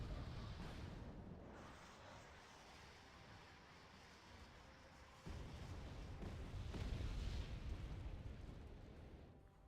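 Artillery and napalm strikes in the Wargame: Red Dragon strategy game, a continuous deep rumbling roar of blasts and fire that swells louder partway through, broad and booming with no distinct speech.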